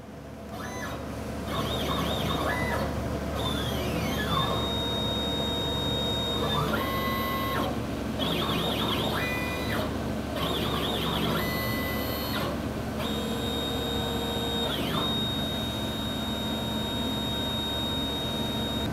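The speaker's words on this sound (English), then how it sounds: "you can actually do a dry run with the machine and actually watch it cut" A computer-controlled cutting machine doing a dry run, its stepper motors whining and rising and falling in pitch as the head moves, under a steady loud mechanical hum with no talking.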